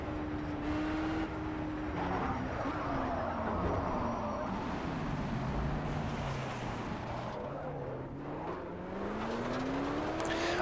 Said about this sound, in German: Klingt der Motor komisch?